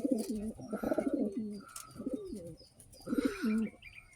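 Pigeons coo in repeated soft, throaty phrases, a few bursts close by with faint chirps in the background.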